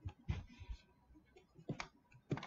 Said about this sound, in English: on my keyboard, I hit delete